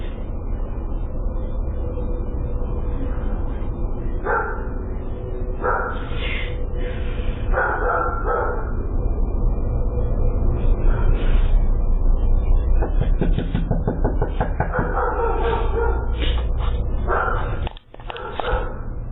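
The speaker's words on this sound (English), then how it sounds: "'Cause that dog knows she's a ghost. You can hear him there." A dog barks repeatedly in short clustered bursts over a steady background drone, the yaps coming in irregular runs before a brief drop near the end.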